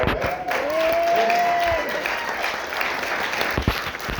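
An audience breaks into clapping, a steady wash of hands with a few sharper claps near the end, while a voice briefly carries over the start.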